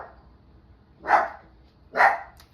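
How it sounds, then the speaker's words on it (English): Two sharp dog barks about a second apart, close and clear against a quiet indoor background, with no talking. "My dogs are amazing. They're barking at nobody."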